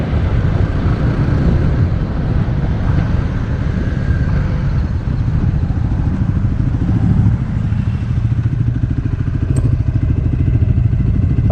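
Stock-geared new motorcycle engine held at about half throttle, a steady loud drone with dense low pulsing that holds evenly throughout, close up and with no talk.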